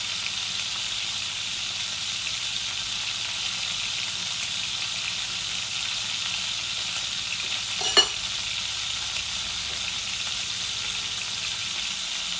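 Meat and potato fry in a pan, giving a steady, even sizzle that holds throughout, with a single brief clink partway through.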